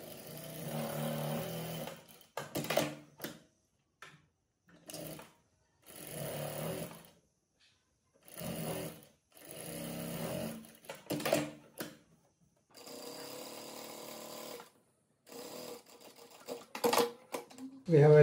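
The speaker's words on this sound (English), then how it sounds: "Now we'll put a stitch all around, attaching lining to the main fabric" A sewing machine stitches lining to saree blouse fabric in repeated short bursts of rapid whirring, separated by pauses of silence, close and clear.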